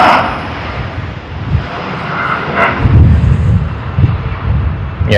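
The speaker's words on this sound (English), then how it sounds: "This is the first aircraft which landed at Sydney Airport today after the curfew ended." A Malaysia Airlines airliner landing at Sydney Airport, a loud sustained jet roar with rumbling low-end wind buffeting, heard from outdoors near the runway.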